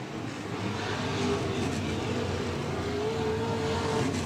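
A sport compact race car engine at a raceway refires after a spin and holds a steady, loud, droning roar for a few seconds. It comes across at a moderate distance with broad noise around it and no talk.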